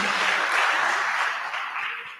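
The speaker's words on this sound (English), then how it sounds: "A round of applause for Anderson." Applause from a crowd at a mentorship event honoring a participant, a dense hiss of clapping that holds steady and then gradually fades toward the end.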